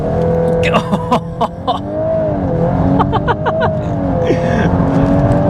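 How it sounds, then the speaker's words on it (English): A VW MK8 Golf R launching under launch control, the engine roaring loud and close as it surges through rising revs and gear changes, with a voice talking over it. "it's just your normal launch control, foot on the brake, hard down on the accelerator"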